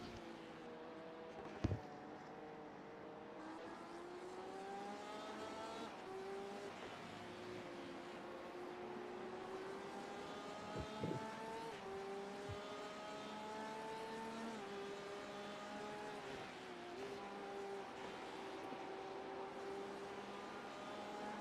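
Race car engine in the iRacing sim at Spa revs high and steadily throughout, with rising and falling pitch sweeps and a few sharp clicks and pops under the constant engine drone.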